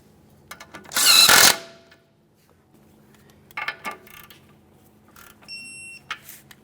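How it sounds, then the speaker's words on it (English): Outer tie rod end mounting nut on a 2008-2017 Mitsubishi Lancer being run down and torqued with a ratchet: a loud burst of rapid ratchet clicking, then scattered softer clicks and tool clatter close by, with no talk. "Once you have it started on, snug it up and then torque it to 18 foot-pounds."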